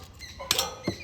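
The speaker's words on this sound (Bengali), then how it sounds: "আর দেখুন আওয়াজ শুনে বুঝতেই পারছেন কতটা মুচমুচে হয়েছে।" Crispy fried snacks of raw potato and semolina crunch in a couple of sharp, close bites, separated by a short pause, with no talking.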